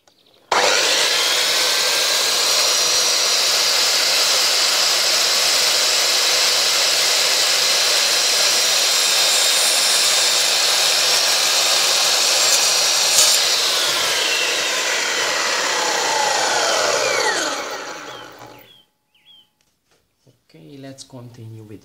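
A power tool saws steadily through a drum being made into a mousetrap, a loud continuous high whine lasting about seventeen seconds before winding down, followed by brief rustling.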